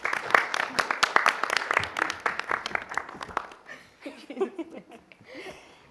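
Applause from a small crowd at a youth council meeting, brisk clapping under overlapping talk and some laughter before fading into chatter.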